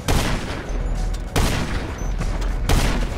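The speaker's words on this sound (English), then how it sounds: "who's shooting rockets?" Rockets fired in a shooter game, three heavy booming launches roughly 1.3 seconds apart, each trailing into a loud rumbling wash of noise, close and intense.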